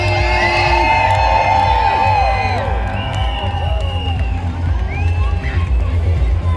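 A large street crowd at the London Pride parade near Piccadilly Circus cheers and whoops loudly and continuously, several high voices rising above the roar.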